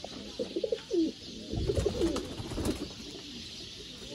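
Soft, low coos of Ferozpuri pigeons rise and fall in a few short phrases, close by, with a faint background hum.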